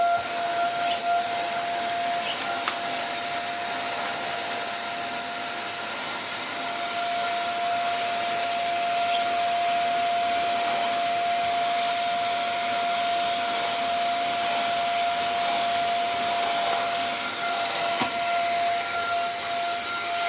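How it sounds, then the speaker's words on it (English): A Henry corded vacuum cleaner fitted with the Henry Cordless floor head runs continuously with a steady airy roar and a constant high whine, close and unbroken throughout. "This is the Henry Cordless floor head, and already it's a lot nicer because it's a bit taller, although the machine now hates it."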